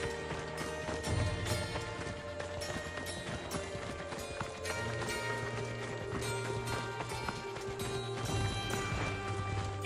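A horse gallops in the video game Assassin's Creed Odyssey, a steady stream of clip-clop hoofbeats running throughout over game ambience and music, with no talk.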